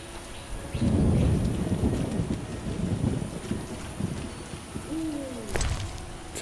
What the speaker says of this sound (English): Wonderful downpour.